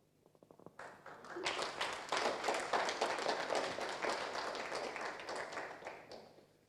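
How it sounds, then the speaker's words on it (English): A live audience at a digital transformation forum claps for a speaker, beginning with a few scattered claps that quickly swell into sustained, dense applause before fading near the end. "Once again, a hand of applause to Caroline Bugua."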